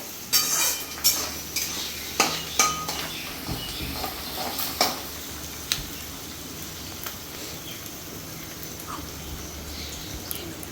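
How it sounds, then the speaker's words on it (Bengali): Onions fry in a pan while a spatula stirs them. Metallic scrapes and clinks come in an irregular run at first, then thin out over a steady, close background sizzle. "পেঁয়াজটা ভাজাভাজি চলছে এখন।"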